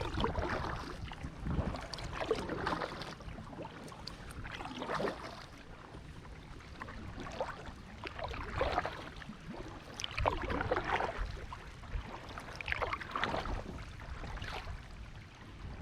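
Kayak gliding on water, with soft recurring paddle splashes and gentle sloshing at a steady, unhurried rhythm, faint and close.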